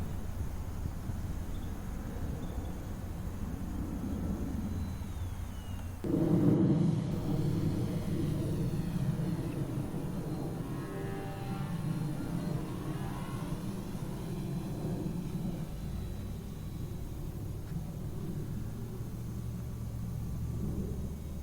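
Skynetic Bison XT STOL RC model plane with a 1750mm wingspan flying at a distance, a steady faint motor whir and rumble with a brief louder swell partway through and outdoor wind noise, no voices.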